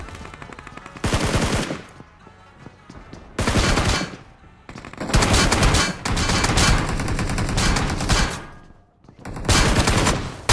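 Bursts of automatic gunfire in the BGMI battle royale video game come in loud, dense volleys of several seconds each, separated by short quieter gaps, close and dominant throughout.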